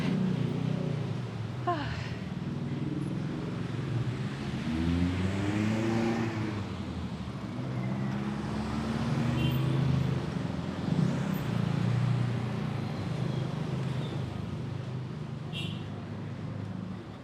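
Street traffic on Raya Legian in Legian, Bali, a steady roar of cars, buses and motorbikes passing close by, with engines revving and a continuous roadway rumble throughout. Voices are faintly audible under the noise.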